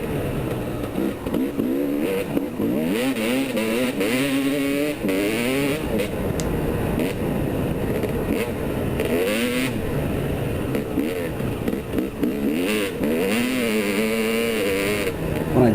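A 2002 Kawasaki KX250 two-stroke dirt bike engine revs loudly and continuously, its pitch climbing and falling in repeated sweeps close by, with no talking.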